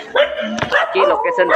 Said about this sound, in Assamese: চাব পাৰিছে কুকুৰবিলাকে ভুকি আছে